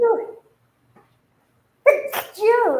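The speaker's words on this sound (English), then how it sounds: "Excuse me. I tried not to sneeze." A sharp sneeze breaks a quiet pause during a casual talk-show chat, preceded by a short spoken fragment and followed by a brief voiced sound right after.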